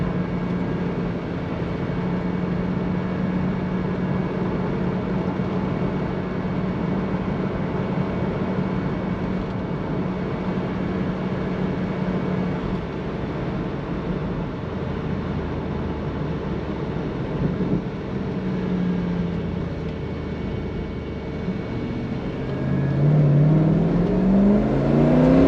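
A tuned 600-horsepower S124 with a turbocharged V8 accelerates hard toward the rev limit, a steady close drone from inside the car that climbs in pitch near the end.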